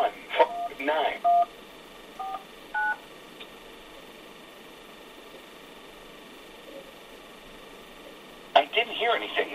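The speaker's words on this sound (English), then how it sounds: "please enter the following number on your phone's touchtone pad" Touch-tone DTMF keypad beeps on an automated telephone line during a Windows XP activation call, several short bursts of dialing tones at the start and a quick cluster near the end, with quiet line hiss between.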